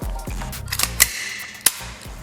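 A PTS ZEV Ed Brown 1911 gas blowback airsoft pistol fires several quick, sharp pops close by, a rapid cluster followed by a couple of louder isolated shots.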